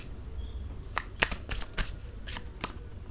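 Tarot cards are shuffled and drawn by hand, with a series of soft, quick riffles and flicks close up in a quiet room.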